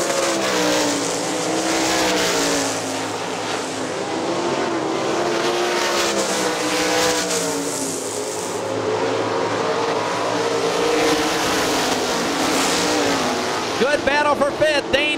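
Sprint car engines roar continuously at high revs as the cars run close together on a dirt track at Hartford Speedway Park in 2002, with tires scrabbling and an announcer's voice over the din.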